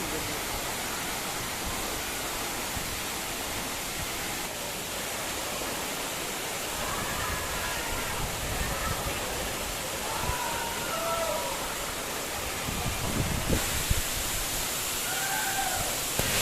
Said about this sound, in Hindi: गाइस आपको बता दूँ कि ये जो वाटरफॉल है बीजा कस्सा के नाम से जाना जाता है।